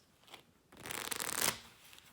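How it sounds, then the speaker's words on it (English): A deck of playing cards riffle-shuffled open on a table, a quiet tap then a single quick burst of fluttering card riffle lasting under a second, close and crisp, with no talking. "This is a really quick, open riffle shuffle."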